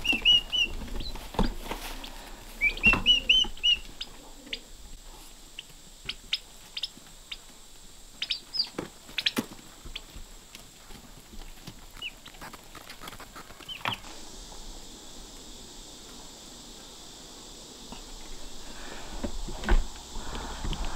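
Hens and young chicks in a big homestead barn cluck in scattered bursts, some sharp calls and short runs of clucking over a quiet, faintly hissing background, with no one speaking.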